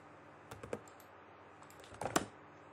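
A computer keyboard is typed on in two short bursts of clicky keystrokes, close and quiet, as a folder name is entered, with silence between the bursts.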